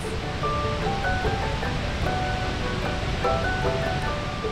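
Godafoss waterfall in northern Iceland roars with a steady, dense rush of falling water, heard up close and continuously, with faint tonal sounds drifting over it.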